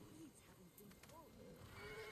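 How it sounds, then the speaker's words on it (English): A horse answers a call with a faint, high whinny in the samurai game Ghost of Tsushima, set against soft clip-clop hoofbeats and a quiet ambient bed, with a voice faintly present. "Call the horse right away."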